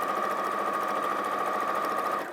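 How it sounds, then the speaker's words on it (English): Sewing machine running continuously at steady speed, stitching fabric straight down a crease, a close, even mechanical whir that stops abruptly at the end. "So sewing straight down the crease, I'm going to stop just before I get to the corner"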